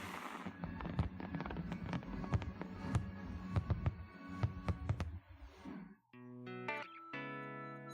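Summer evening fireworks over gardens in Paris burst in a rapid, loud series of sharp booms and crackles for about five seconds, then give way to sustained tonal, chime-like sounds.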